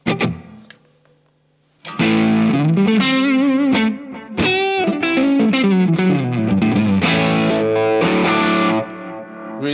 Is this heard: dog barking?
no